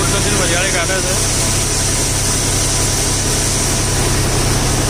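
A 275 DI tractor engine runs under heavy load while powering a thresher separating fennel seed, a loud, steady, close drone with a continuous mechanical hum and rattle, and brief voices partly buried under it.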